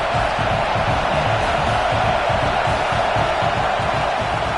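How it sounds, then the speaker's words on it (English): Roaring stadium crowd at a Texas A&M football game, a dense continuous wash of cheering and shouting, loud and unbroken throughout. "This crowd trying to make life miserable for this offense."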